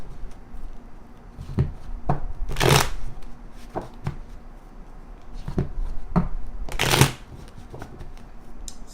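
A deck of playing cards is shuffled by hand during a tarot-style reading, with two loud riffling bursts and scattered softer card snaps and taps, close up and without talk.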